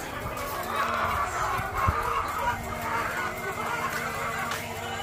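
A flock of Lohmann White layer chickens clucks and chatters steadily on a farm, a continuous close murmur of hens with no distinct crowing.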